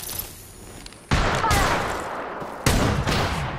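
Video game gunfire erupts in sharp bursts: a loud volley strikes, then a second burst follows, each fading into a rattling tail, with no voices present.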